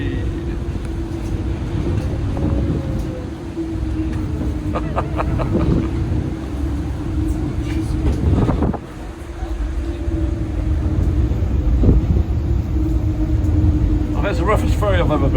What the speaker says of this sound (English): it's the roughest ferry I've ever been across, actually. He's really fighting the wind, isn't he?